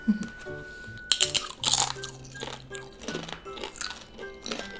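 Sharp, crisp crunches of thin sweet potato chips being bitten and chewed close up, several bites in a row with brief pauses between them.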